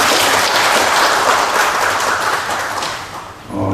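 A hall audience at an architecture and urban forum opening claps for an introduced guest; thick, close applause holds steady, then thins and fades out near the end.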